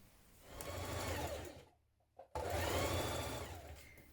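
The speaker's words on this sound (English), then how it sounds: "Sew around it with a 1 centimetre seam" A sewing machine runs in two loud bursts, stitching a 1 centimetre seam around a trouser pocket, with a brief near-silent pause between the runs.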